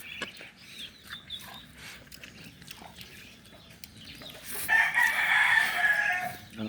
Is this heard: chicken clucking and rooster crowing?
yes